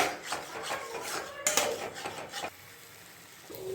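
Spice paste being stirred and fried in a pan over lowered flame, a series of close scraping and rubbing strokes with a light sizzle, fading to quiet near the end.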